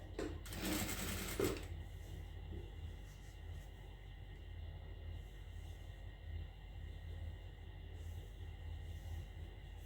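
A domestic sewing machine stitches the side slit of a kurti top in one short, loud burst of rapid needle clatter, then the motor settles into a quieter steady hum.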